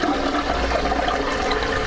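Urine from a dry compost toilet poured into comfrey and nettle liquid fertilizer, a steady close splashing pour of liquid lasting under two seconds, with no talking.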